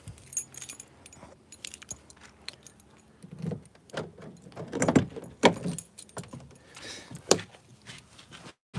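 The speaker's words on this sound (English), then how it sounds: "so let me open this car" Keys jangle and a car door is handled and opened, with clicks, rattles and a few thumps scattered across the stretch, close and moderately loud with no talk.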